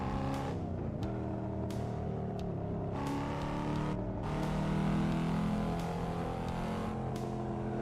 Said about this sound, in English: What car am I driving in the game? Here, it's down here, the Cadillac CT5V.